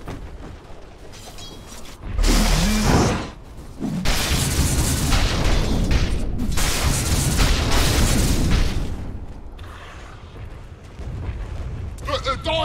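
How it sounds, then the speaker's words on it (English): Heavy booming explosions and clattering attack sounds as towers come under assault in the game Dota 2, a dense, loud barrage with an announcer-like voice speaking over parts of it. "Radiant's bottom tower is under attack!"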